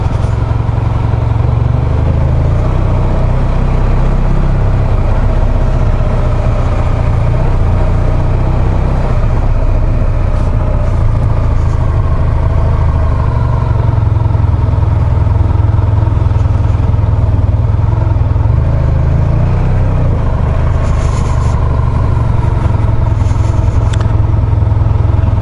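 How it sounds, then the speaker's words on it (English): A vehicle on new BattleAxe A41 tyres rolls over slippery cobbles in the seaside town of Saint-Maxime, with a loud, steady engine drone and road rumble running throughout and no talk. "Let's watch these new tyres on these slippery cobbles and things."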